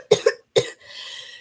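Three sharp coughs from one person, two in quick succession then a third after a brief pause, close and fairly loud, followed by faint low background noise.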